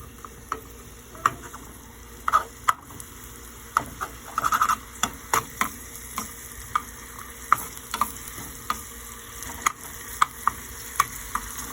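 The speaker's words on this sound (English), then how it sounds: "Ooh, I can hear it sizzling." Scallions, some green and some white, sizzle in a hot pan, a soft steady frying hiss broken by scattered clicks and utensil taps against the pan, heard close with no talking.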